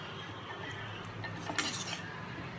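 Eggs frying in turmeric in a pan, with a steady soft sizzle broken by occasional light clinks and scrapes of a utensil against the metal, close up and without any voices.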